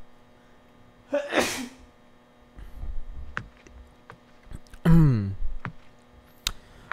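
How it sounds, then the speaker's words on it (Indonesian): Two loud sneezes erupt close to the microphone during a horror game session, separated by a few seconds, with faint clicks and a low electrical hum between them. "Aduh, mau bersin."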